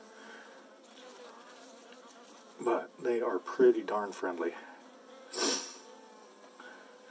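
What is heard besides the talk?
Saskatraz honey bees flying around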